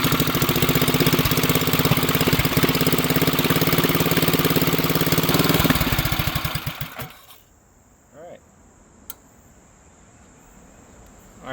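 A ratrod trike engine runs loud and steady, a rough, rattling idle that continues for about six seconds before it cuts out and fades away, leaving a quiet scene with a few faint knocks and a brief click.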